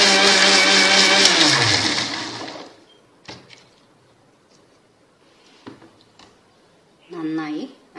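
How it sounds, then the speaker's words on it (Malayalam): A kitchen mixer grinder blends cooked tomatoes for homemade ketchup, a loud steady whirring drone that slows and winds down after about two seconds, followed by quiet clatter and a brief second burst of motor noise near the end. "ഇനി ഇത് നമുക്കൊരു മിക്സി ജാറിലേക്ക് മാറ്റി നന്നായി അടിച്ചെടുക്കാം"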